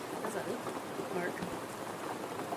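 Steady rain patters continuously at low, even loudness, a soft wash of droplets with no break across the short stretch.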